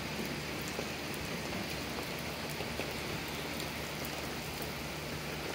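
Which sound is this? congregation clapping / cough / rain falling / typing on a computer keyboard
rain falling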